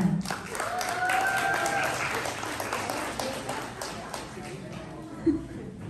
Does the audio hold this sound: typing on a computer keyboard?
no